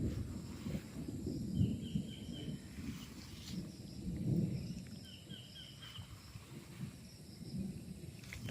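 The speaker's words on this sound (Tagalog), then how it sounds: "kumukulog, medyo umuulan po ngayon" Thunder rumbles in low, rolling swells over a farm with coconut trees in Pagsanjan, Laguna, during light rain, with two louder peaks about three seconds apart and faint bird calls and insects in the background.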